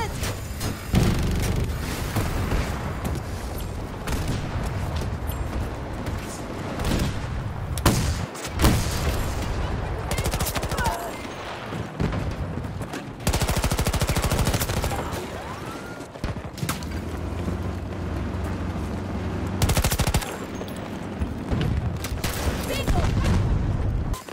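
Gunfire and explosions from the video game Battlefield 2042, with dense, continuous bursts of shots and booms running loud throughout, broken by a few brief lulls, along with game voices.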